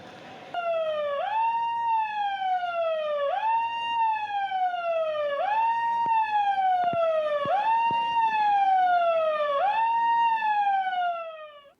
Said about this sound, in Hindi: शहर की फतेहगढ़ी से आपातकालीन सायरन बजने के साथ 9:15 से 9:30 तक 15 मिनट का ब्लैकआउट का अभ्यास हुआ